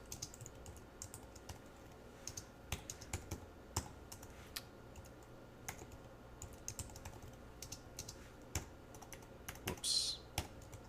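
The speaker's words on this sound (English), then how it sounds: "Let me type that out." Typing on a computer keyboard during a JavaScript lesson, scattered faint key clicks and a few sharper taps over steady low room hum, with no one speaking.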